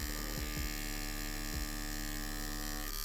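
A tattoo machine running at low voltage gives a steady, close electric buzz with a few soft clicks near the start, alone with no voices.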